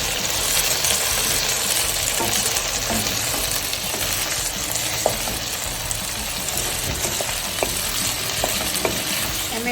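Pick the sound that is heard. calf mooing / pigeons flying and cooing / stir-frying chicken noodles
stir-frying chicken noodles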